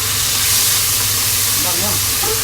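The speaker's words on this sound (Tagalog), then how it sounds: "Yan, lagay natin tong scallop." Scallops go into a hot frying pan and sizzle loudly and steadily, with a dense crackling hiss right up close and a voice faintly underneath.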